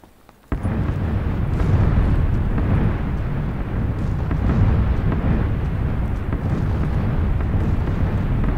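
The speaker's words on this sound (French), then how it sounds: "On voit la zone de bombardement." Explosions from the red zone bombardment in PUBG, a sudden loud blast followed by a sustained heavy rumbling roar of continuous detonations that stays loud throughout.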